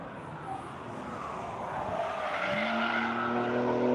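Race car skidding as it is driven hard, tires scrubbing and the engine rising in pitch and loudness, a sustained, building roar heard at moderate distance.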